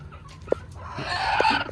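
Native country hens cluck nearby in short, soft bursts, with a rustling background that grows louder toward the end.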